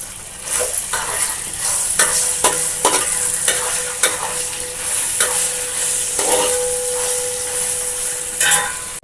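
Dry coconut and fennel seeds frying in a tempering for Telangana-style poha, a steady close sizzle with repeated sharp clinks and scrapes of a spoon stirring the pan throughout.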